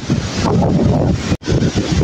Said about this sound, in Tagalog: Lakas ng hangin po na galing sa tubig na bumabagsak po dito.